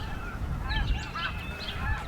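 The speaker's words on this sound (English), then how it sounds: "I came across the first flock of snow geese I've seen this year." A flock of snow geese honking outdoors, many overlapping calls at middle distance over a steady low wind rumble, with no talking.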